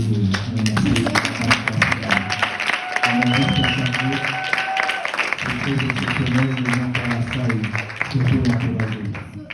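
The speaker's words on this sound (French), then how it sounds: "can you clap for yourself?" A conference audience claps and applauds in a dense, sustained wash of hand claps lasting several seconds, with voices and a musical or spoken undertone running beneath it.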